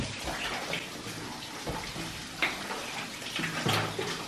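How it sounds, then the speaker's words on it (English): Small waterfall inside Laurel Cave at Carter Caves, a steady broadband rush of falling water that stays fairly even throughout, with a few brief brighter splashes and no talking. "There's that little waterfall."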